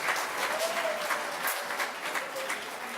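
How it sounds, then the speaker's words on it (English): Dense, steady round of applause from a seated audience at a church service, broad even clapping filling the whole moment with a few faint voices mixed in. "Round of applause."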